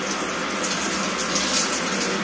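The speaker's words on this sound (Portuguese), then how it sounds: "A gente coloca um pouquinho de água, ó." Tap water runs steadily into a nearly empty shampoo bottle, a continuous close gush with no pauses.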